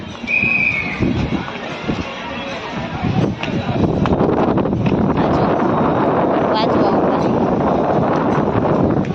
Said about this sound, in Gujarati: પવન તો જો બહુ જ પવન છે